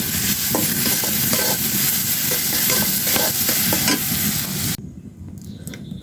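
Onion and garlic sizzle steadily in hot oil in a pan with stirring scrapes, a loud continuous hiss that cuts off abruptly near the end.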